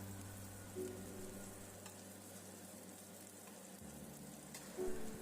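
Marinated fish fries in a pan for Thalassery fish biryani, giving a soft, continuous sizzle with a low hum underneath and a couple of brief louder spits, quiet and steady with no voices.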